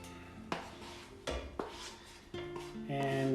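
Fried potatoes tipped from a 12-inch pan into beaten eggs for Spanish tortilla, with a few sharp clanks of pan and utensils, soft scraping and stirring, close and fairly quiet.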